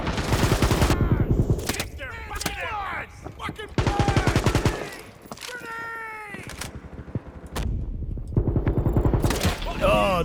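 Gunfire from the video game WW3 during a team deathmatch, loud rapid bursts of automatic shots in several clusters with brief gaps, mixed with other game effects and sweeping tonal sounds.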